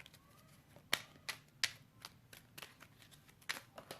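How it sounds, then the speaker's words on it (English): A square tarot deck is shuffled quietly, giving a sparse run of soft card slaps and ticks that land at irregular intervals, with no voices. "This deck is square, so it's hard for me to shuffle"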